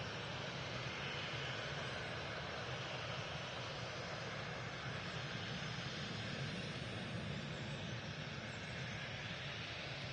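Airliner taxiing on the ground at Manchester Airport near the runway visitor park, a steady distant engine roar and whine holding at an even level throughout, with no voices.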